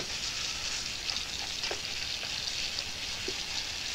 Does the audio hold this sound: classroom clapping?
no